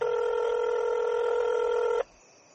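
Steady telephone dialing tone, loud and close, holding for about two seconds before cutting off abruptly into quiet line hiss; no voices.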